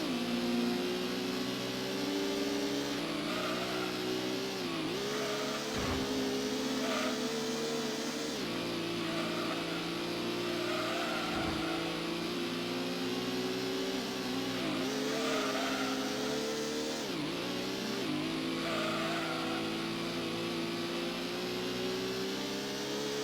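A front-wheel-drive car's engine drones continuously in Gran Turismo on the Club Man Stage Route 5, revving and dipping through repeated gear shifts for over twenty seconds with no talk.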